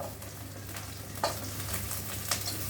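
Green peas tipped into a pot of whole spices sizzling in oil, among them black pepper, cloves, green cardamom, bay leaf and stone flower, with a steady close frying hiss and a couple of soft stirring scrapes.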